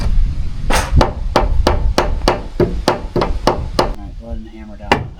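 Hammer blows strike a wooden board while trim work is done on a remote off-grid cabin bunker, a rapid run of about eleven sharp, close, evenly spaced knocks followed by a pause and one final hit.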